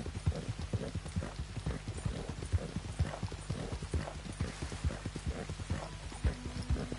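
A horse ridden along a trail in the video game Red Dead Redemption 2 keeps up a steady clip-clop of hooves, moderately close and fairly quiet, with no talking over it.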